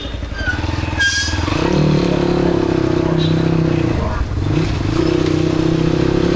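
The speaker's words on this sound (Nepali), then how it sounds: "के मेरो बाइक कस्तो मिठो स्मुथ भएको छ यार अहिले त।" A motorcycle running smoothly hums at a steady, even engine tone throughout while the rider talks over it, with brief wind buffeting and a slight rise in revs midway.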